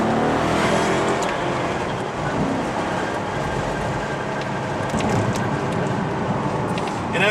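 A 2004 Maserati Cambiocorsa Spyder drives along at steady speed, a broad continuous rumble of engine, tyres and road noise heard close and fairly loud with no clear change in pace.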